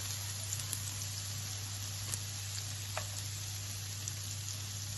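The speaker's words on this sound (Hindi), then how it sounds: "इसको हम सॉटे कर लेते हैं।" Onions sautéing in olive oil in a pan give a steady, close sizzle and crackle that runs evenly throughout, with occasional small pops.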